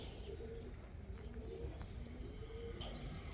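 Pet pigeons, including a lemon-coloured male, coo softly in repeated low, throaty calls, close but faint.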